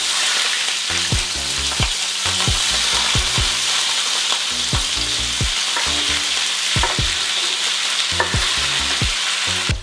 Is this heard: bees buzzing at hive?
no